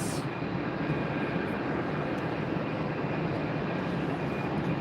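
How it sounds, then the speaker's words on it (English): A Southwest Boeing 737-8 lands at Tampa airport as a steady, moderately loud jet rumble with a faint high whine, continuous and fairly distant. "it's a Southwest flight 2600, 737-8 coming in from Dallas"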